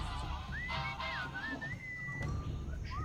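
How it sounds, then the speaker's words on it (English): In a Sam & Max video game scene, a melodic whistled tune glides and warbles up and down over a busy low background, played alone without talk. "What is that enchanting whistling sound?"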